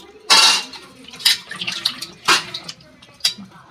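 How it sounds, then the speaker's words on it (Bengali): New potatoes, gritty with sand, are washed in water in a pot, with loud bursts of sloshing and scraping, clattering strokes and splashes at an uneven rhythm, nearby and without talk. "নতুন আলু তো একটু বালি বালি আছে, ওই জন্য একটু ভালো করে ধুয়ে নেব"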